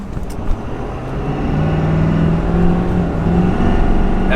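A 2021 Ford F350 Powerstroke diesel pickup towing about 15,000 lb accelerating in first gear up a 6% grade, a heavy engine drone swelling and holding steady, heard from inside the cab with no talk.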